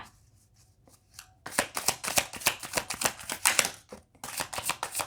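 A tarot deck being shuffled thoroughly at close range: a brief quiet start, then a steady run of crisp riffling card flicks with a short pause near the end.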